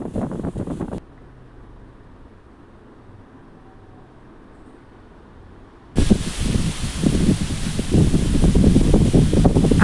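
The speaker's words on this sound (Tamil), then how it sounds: "எங்கள் ஊர்லலாம் காற்று பயங்கரமாக அடிக்க ஆரம்பிச்சிருச்சுங்க" Strong gusting wind buffets a rural outdoor spot with fodder grass fields, roaring loudly as broadband rushing noise, cutting out to a quieter lull for several seconds before surging back even harder.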